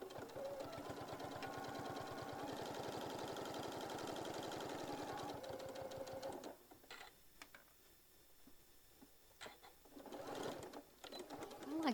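A sewing machine runs steadily at close range, stitching around a tote bag pocket, with a rapid, even mechanical chatter for about six seconds, then stops and gives way to sparse clicks and a brief restart near the end.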